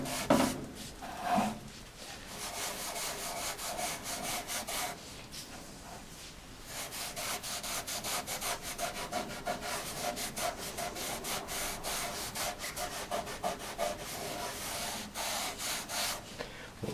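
Wood furniture, a bureau, sanded by hand with continuous rhythmic rubbing strokes, close and steady, with a short pause partway through before the scraping resumes.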